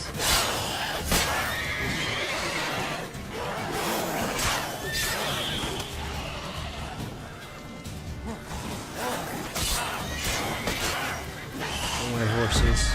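Horses neigh and whinny repeatedly amid a busy, loud soundscape of clashing effects and music in The Witcher 3: Wild Hunt, with occasional hoof clatter.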